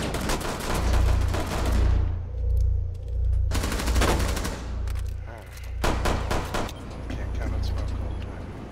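Gunfire in Rainbow Six Siege: dense bursts of rapid automatic shots in two long volleys with a pause between them, loud and close over a low engine-like drone, with a voice talking throughout.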